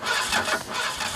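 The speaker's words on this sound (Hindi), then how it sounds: "गाड़ी स्टार्ट नहीं हो रही है।" A car engine cranks with a rough, uneven churning that never settles into a steady idle, loud and close, with no one talking.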